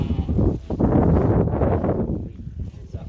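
A sheep bleats loudly and close at a hybrid goat farm, one long wavering cry filling most of the moment before trailing off.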